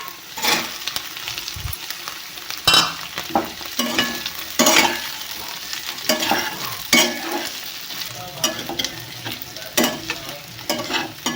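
Paneer fries in a kadai with onion and capsicum for a paneer curry. A spatula stirs and scrapes in irregular bursts over a steady, close sizzle, with no voices.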